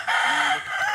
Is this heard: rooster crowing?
yes